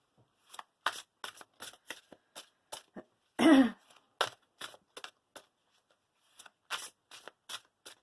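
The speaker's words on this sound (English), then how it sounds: "I'm going to pull some witches' wisdom oracle cards first of all." A deck of witches' wisdom oracle cards is shuffled close up in a quiet room, giving a steady series of short riffling bursts, with a brief cough or throat-clear partway through.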